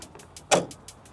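A Ford Ranger Super Duty bonnet lifts on gas struts in one short, soft whoosh and thump near the middle, close by, with quiet surroundings before and after.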